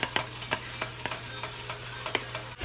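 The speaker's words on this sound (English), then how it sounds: "So I'm going to keep stirring and just cooking it until it cooks a little bit more" Ground turkey is stirred and browned in a pan, a utensil scraping and tapping in a steady irregular rhythm over a soft, constant sizzle with no talking.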